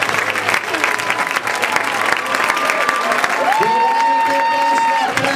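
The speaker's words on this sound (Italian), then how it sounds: "Questo applauso dice già tutto!" Audience applause at a final evening show, dense sustained clapping from a crowd with some cheering, and a voice talking through it near the end.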